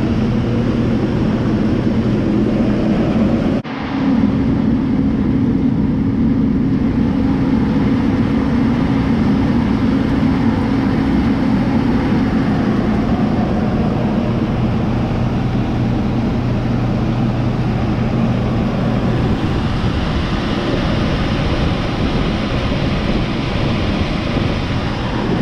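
Pea sheller machine blowing air to clean trash from southern peas, a loud, steady rushing roar of air and machinery that continues unbroken for the whole stretch, with one brief dip early on.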